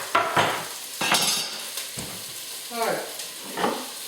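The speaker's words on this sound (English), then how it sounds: "They love the sound of sizzling onion on a hot and sweaty top" Onions sizzle and fry on a hot hob in a home kitchen, crackling in short bursts broken by stirring and utensil clatter, with a brief word spoken.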